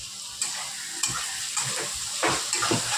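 Ginger and garlic fry in hot oil for a chicken kosha, then onion and tomato join the pan with a soft, steady sizzle punctuated by several sharp stirring scrapes and clinks, close and without talk.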